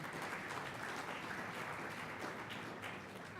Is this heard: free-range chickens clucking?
no